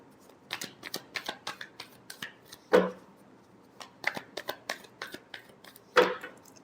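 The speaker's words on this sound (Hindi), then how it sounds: "last shuffle," Tarot cards are shuffled by hand in quick, crisp riffles and flicks, some clustered and some spaced, with two louder slaps as the deck is squared, close up and with no talk.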